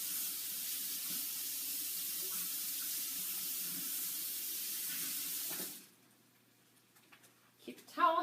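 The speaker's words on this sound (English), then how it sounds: "Now I am gonna rinse my knife because that's all the herbs we're doing." Water runs steadily from a kitchen tap for several seconds as a knife is rinsed, a continuous close hiss that cuts off abruptly, followed by faint handling noises.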